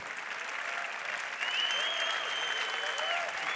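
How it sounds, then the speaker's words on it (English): At an award ceremony, an audience claps steadily and warmly, a dense, continuous wash of applause with a faint whistle rising through it. "Sie können gerne weiter applaudieren."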